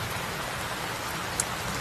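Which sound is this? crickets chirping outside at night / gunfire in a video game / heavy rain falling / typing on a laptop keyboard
heavy rain falling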